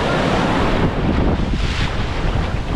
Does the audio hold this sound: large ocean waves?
yes